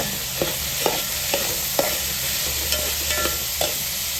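Vegetables sautéing in a pan for godhumai rava kichadi, a soft continuous sizzle under regular scraping stir strokes, about eight spaced taps of the spatula against the pan.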